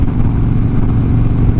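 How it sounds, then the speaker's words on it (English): Loud, steady low rumble of a 2017 Harley-Davidson Dyna FXDB motorcycle's exhaust, a continuous deep engine drone held at an even level close by with no talking. "Hopefully I can hear the exhaust well enough, because I still consider my bike to be too quiet."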